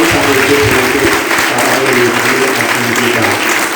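A congregation at a church service breaks into warm applause, dense, steady clapping filling the room for a few seconds, loud and close.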